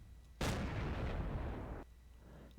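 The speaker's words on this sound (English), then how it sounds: "firework launcher" A firework launcher on a Panther tank build in the Roblox game Plane Crazy fires once, a sudden loud booming blast with a rough roaring tail lasting over a second, then cut off; no one speaks.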